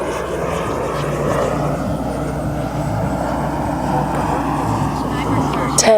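A Boomerang ATOM model airplane comes in to land with full flaps, its engine a steady continuous drone throughout, with people talking over it.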